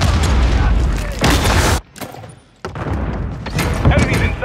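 Grenade blast in the Call of Duty Modern Warfare 3 (2023) Hardpoint multiplayer mode, a loud booming burst mixed with gunfire that cuts to a brief muffled lull before dense shooting and battle noise resume, with game voices calling out over it.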